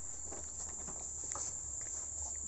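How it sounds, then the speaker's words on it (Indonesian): Crickets on a cricket farm chirp steadily in a shrill continuous drone, with faint rustling and pattering beneath, and no voices. "Jangkrik itu."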